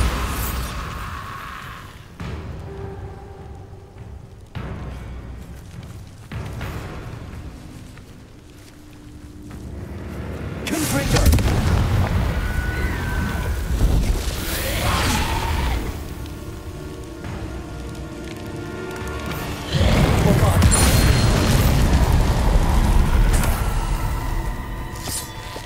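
Bombarda blasting-spell explosions in Hogwarts Legacy on PS5, heavy booming blasts with rumbling tails that build over a loud, continuous game soundscape, with the strongest bursts coming later in the sequence.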